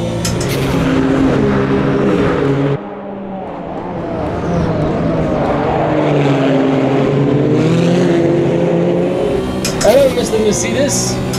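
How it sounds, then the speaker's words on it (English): A turbocharged Porsche engine in a racing video game, revving and changing pitch continuously with a brief drop around the gear shift, loud and close, with talk over the top. "But listen to this Porsche."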